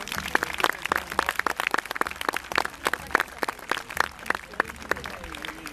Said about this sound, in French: je vous demande quand même de l'applaudir